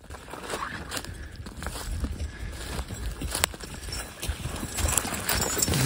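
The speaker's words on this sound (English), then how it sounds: "Here comes William, another beauty about that one single horse is he can slip right through these little spots like this" A single draft horse skidding logs through woodland, its hooves clip-clopping in a steady walking rhythm, close by, with scraping and rustling from the dragged logs mixed in and no talking.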